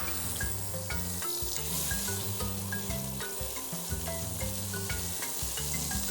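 Butter melting and sizzling in a pan for a Trinidadian macaroni pie, a steady close frying crackle with light stirring and scraping, no talking.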